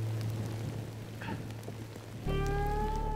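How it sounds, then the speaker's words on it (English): Rain falls steadily during an opening-day goose hunt, a dense even hiss over a low outdoor hum, joined near the end by a sustained tonal whine. "this rain has absolutely made a mess of things for us"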